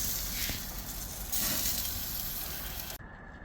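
BBQ pork roast seasoned with garlic salt, black pepper and salt sizzles and crackles over an open flame on a rotisserie, a steady close hiss with popping fat that cuts off abruptly near the end.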